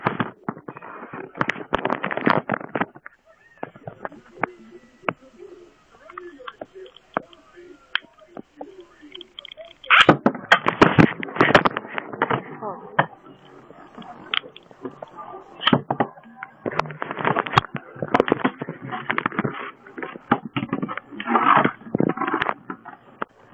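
Spiral Capricorn and L Drago Destroy Beyblades clash in a stadium, giving off bursts of rapid clattering and scraping broken by quieter spinning stretches.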